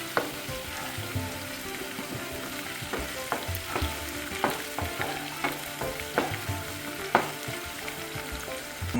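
Spices such as fenugreek and mustard seeds sizzle and crackle in hot oil in a pan while fish pickle is made, with steady frying and scattered sharp pops and stirring clicks throughout.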